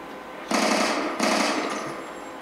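Sustained automatic fire from an MTAR rifle in Black Ops 2 zombies, two loud bursts in close succession, the second trailing off, with no talking.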